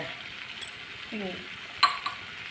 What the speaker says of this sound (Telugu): ఇప్పుడు జీడిపప్పును, కిస్మిస్ వేసుకున్నాం కదా, వేసుకుని తిప్పుకుందాం.